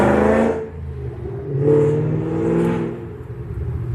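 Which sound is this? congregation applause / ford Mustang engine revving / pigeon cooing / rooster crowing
ford Mustang engine revving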